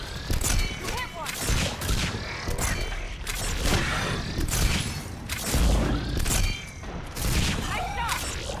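Sustained gunfire and combat clatter in Mass Effect 3, loud overlapping bursts and booms with creaking mechanical effects, continuous across the whole stretch amid game noise.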